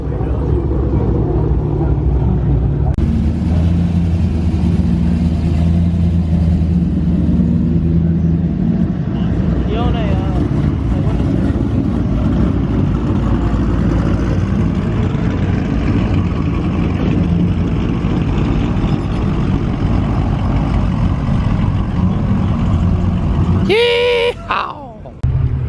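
Cars pull out of a car meet with a continuous low engine rumble and passing road noise, while people talk over it. A sharp short sound breaks in near the end.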